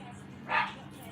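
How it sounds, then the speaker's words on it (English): A small female dog barks once in the background, a single brief yap rising over low room noise and a faint background voice. "Every time a car ride by, every time a person walks by, she's barking."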